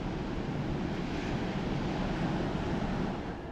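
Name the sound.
ocean waves and wind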